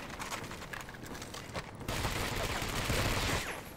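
Sustained dense gunfire in the World War II shooter Medal of Honor: Vanguard, a continuous rattle of rapid shots with battle noise that swells louder in the second half.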